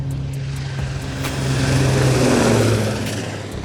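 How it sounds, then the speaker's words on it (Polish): An SH-2G helicopter lands on a navy frigate's deck, its engine and rotor droning loudly and swelling toward the middle before easing slightly, with steady tonal whine over broadband wind and sea noise. "odbędzie się ostatnie lądowanie śmigłowca SH-2G na pokładzie fregaty"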